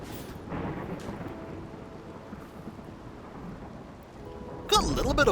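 Steady rain with rumbling thunder fills a RimWorld colony thunderstorm, a broadband wash throughout, with a louder thunder burst near the end.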